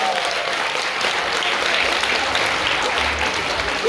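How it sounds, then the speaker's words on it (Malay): A seated audience at an emcee's energizer session bursts into loud, dense applause, a continuous wash of many hands clapping close by for several seconds with a faint murmur of voices underneath. "berikan tepukan untuk diri sendiri"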